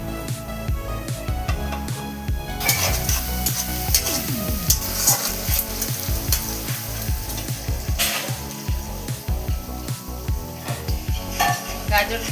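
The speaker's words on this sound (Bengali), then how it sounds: "গাজরটা লাল করে ভাজা হয়ে গেছে" Carrots fried in a pan for a home-style vegetable fried rice, a continuous sizzle with repeated stirring scrapes and clinks of a spatula, close and fairly loud with no talk.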